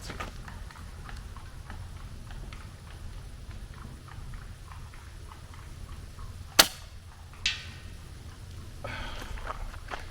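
Outdoors, an air rifle pellet strikes a target 97 yards away: one sharp, loud crack, followed a moment later by a fainter, distant impact, over a low steady background hiss.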